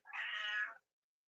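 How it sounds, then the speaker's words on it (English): A single short, clear meow from a house cat, close and distinct, lasting under a second before silence. "Y'all hear my cat?"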